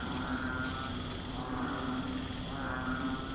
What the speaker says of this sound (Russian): Трещоточки, лягушки.